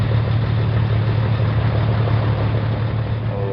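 Scania 143H truck engine idling in Euro Truck Simulator, a steady low rumbling drone that holds even and close throughout with no voices.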